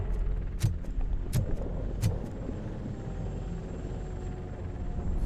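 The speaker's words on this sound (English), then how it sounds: "That's a TV helicopter." A steady TV news helicopter rumble from the video game RoboCop: Rogue City drones throughout at moderate distance, with a few sharp clicks early on and no talking.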